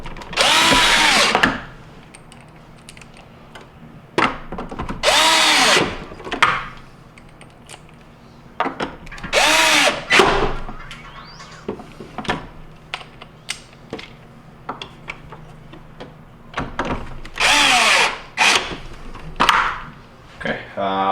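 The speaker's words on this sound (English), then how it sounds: "You install the 4 1/4-inch mounting screws" A power drill drives 1/4-inch mounting screws into a Whirlpool refrigerator ice door assembly in short, sharp bursts of whirring, repeated several times with pauses between them.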